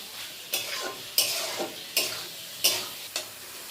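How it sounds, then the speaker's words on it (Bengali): Spiced pointed gourd and potato pieces are sautéed in a pan under a low sizzle, with about five evenly spaced stirring strokes, each a close scraping swish. "এবার আমার মশলা দিয়ে পটল আলুগুলো কষানো ভালোভাবে কষানো হয়ে গেছে"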